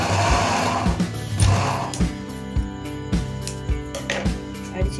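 A sewing machine stitches a cloth niqab nosepiece in short bursts of rapid, rhythmic needle pounding, close and loud, with brief pauses between runs.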